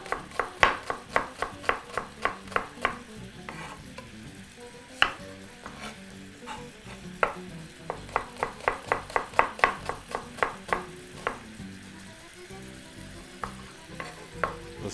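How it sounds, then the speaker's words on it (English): A knife chops onions into big slices, landing rhythmic crisp cuts in quick runs separated by short pauses, close and clear with no talking. "proceed to chop up your onions. Nice big slices for this particular recipe"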